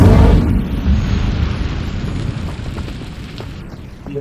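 A fiery burst from the Incendio fire spell in Hogwarts Legacy erupts loudly with a deep whooshing roar, then settles into a sustained rumbling crackle that slowly fades.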